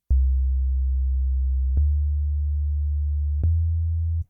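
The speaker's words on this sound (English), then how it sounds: "But sine wave, going from polyphonic to monophonic." Pure sine wave synth tones from a wavetable patch switching from polyphonic to monophonic, three clean sustained notes each starting with a soft click, the steps about 1.7 seconds apart, loud and alone.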